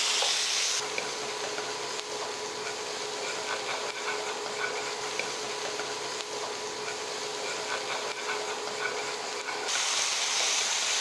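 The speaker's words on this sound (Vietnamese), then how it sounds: "Khi mỡ nóng thì cho tỏi, băm nhuyễn đảo qua. Duy cho thịt bò vào." Steady, continuous sizzling and hissing of beef and garlic stir-frying in a hot pan, loud and close, with faint stirring underneath and no talking.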